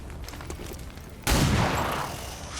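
A pistol shot in XCOM 2: War of the Chosen cracks loudly after a stretch of quieter background. A burst of gunfire with a lingering boom then fades slowly.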